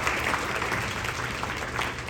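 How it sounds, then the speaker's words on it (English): Audience applause for school band students, a dense, steady wash of clapping from a crowd, continuous and fairly close throughout. "Give yourselves a round of applause."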